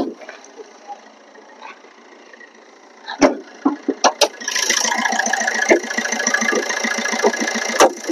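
The diesel engine of a 2013 Maruti Ertiga VDI car starts with a few sharp bangs and then settles into a steady, close, rough idle after a quiet stretch.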